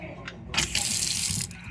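A kitchen faucet is turned on, and water gushes and splashes steadily into the sink for just over a second after a brief faint hiss. The sound is close and moderately loud.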